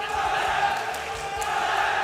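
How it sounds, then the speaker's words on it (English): Crowd at the YCS Utrecht 2020 card-game tournament final roaring wildly, a steady dense wall of cheering and shouting that fills the whole two seconds. "here the crowd goes wild"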